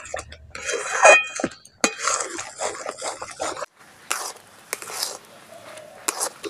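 A thick, sweet mixture of raw rice is stirred in a karahi. Metal scrapes and clinks come in bursts and pauses, close and fairly loud, with a few quieter gaps between strokes.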